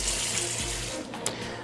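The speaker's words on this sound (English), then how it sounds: "we're just gonna fill this up with water, let them soak for a little while" Tap water runs steadily into a big bowl, filling it to soak vegetables in a home kitchen; a continuous, even splashing rush close by with no talking.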